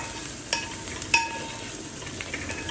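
Ground fenugreek stirred into onions frying in a pan for a beef dry roast, giving a steady soft sizzle with a couple of faint spoon clicks, close and alone with no voices.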